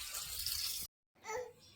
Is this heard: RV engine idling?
no